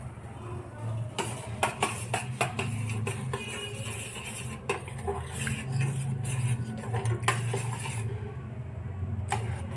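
Sugar and coffee powder are stirred in a pot, a spoon ticking and clinking against the metal in quick, irregular taps over a low steady hum.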